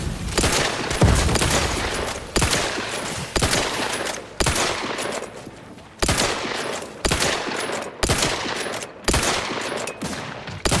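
Bursts of rapid automatic gunfire aimed at a crab in Outer Worlds 2, about eight loud separate volleys in an uneven rhythm, close and dominant with no talk.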